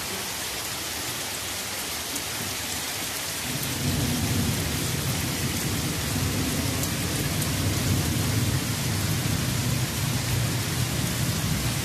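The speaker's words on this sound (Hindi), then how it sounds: "इतनी तेज़ मूसलाधार बारिश है" Heavy monsoon downpour roaring steadily, growing louder partway through, with low rumbling thunder underneath; dense, continuous and close, no voices.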